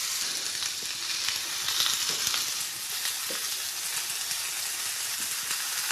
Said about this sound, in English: I've got it all sliced up and ready for us to get the sizzle going.